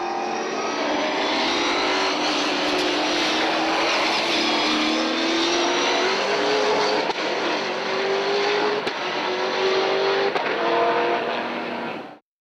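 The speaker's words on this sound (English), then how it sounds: "a BF Falcon Supercar." A Ford BF Falcon V8 Supercar, built by 888 and run by Paul Cruikshank Racing, races in the GT1 class at Taupo, its loud engine howling steadily and rising through the gears for several seconds before cutting off abruptly.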